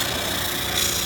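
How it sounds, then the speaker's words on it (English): A spindle sander works soft cedar wood, giving a steady, dense abrasive rasp at constant loudness, close and continuous with no pauses. "This is cedar, it's really soft, so it's going to sand really quick."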